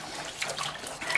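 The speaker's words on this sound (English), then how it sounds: "I'm giving it definitely a good stir, and I'm changing the direction of the water" Water swirls and splashes steadily in a container as it is stirred for a wine kit, a continuous soft rushing with faint gurgles, close and fairly quiet, with no talk.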